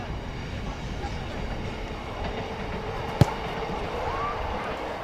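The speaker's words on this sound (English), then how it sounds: "As the train drives past to the north." A train passes to the north of an under-18 rugby ground, a steady distant rumble of rolling wagons with one sharp clank partway through, heard faintly behind outdoor ambience.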